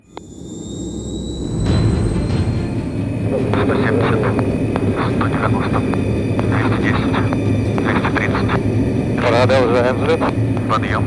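A Tu-104 jet airliner taking off, its engines rising quickly to a loud, steady roar with a high whine, sustained throughout while voices talk over it.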